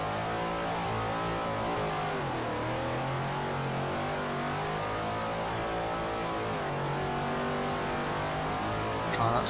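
A race car engine in Forza Motorsport 4 drifting at Fujimi Kaido, revving and wavering in pitch as it slides, steady and continuous with faint tire noise underneath.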